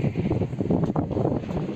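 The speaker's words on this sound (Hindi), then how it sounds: "हवा भयंकर चल रही है ठंडी ठंडी हवा चल रही है" Strong cold wind gusting across an open spot on a university campus in Indore, a loud rumbling, buffeting rush with irregular swells, close to the microphone.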